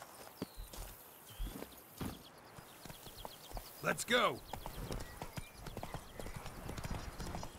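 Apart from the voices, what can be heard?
horse hooves clip-clopping in video game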